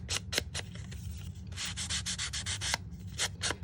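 A sanding tool rubs across chipboard in quick, uneven scratchy strokes, close and fairly quiet, with no voices.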